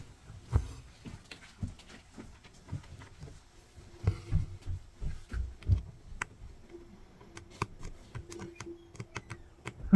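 A needle and thread pass rapidly through cross-stitch fabric stretched in a frame, worked two-handed, making quick, soft, close ticks and taps in a steady irregular rhythm without talk.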